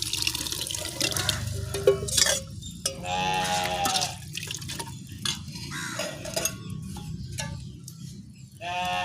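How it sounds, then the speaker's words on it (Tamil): Water pours and splashes steadily into a cooking pot of chicken curry, close by, with animal bleats sounding in the background. "தேவையான அளவு தண்ணி ஊற்றி நம்ம குழம்பு கொதிக்க வச்சிடலாம்."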